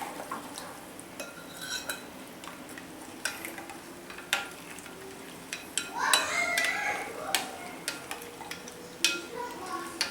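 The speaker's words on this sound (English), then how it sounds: "And to it I'm adding in 3 tablespoons of jaggery. I need the bread a little sweet, so I'm adding in 3 tablespoons of jaggery. Just give it a gentle mix." Jaggery being stirred into a yeast mixture for whole wheat babka, soft scraping and clinking of a utensil against a bowl in scattered strokes, close and fairly quiet.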